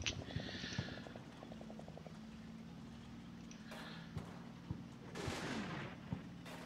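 Canadian artillery fire in the WWII wargame Combat Mission: Battle for Normandy, heard as a series of distant dull booms and sharp cracks scattered over steady low rumbling battlefield ambience, with a faint clattering rhythm early on.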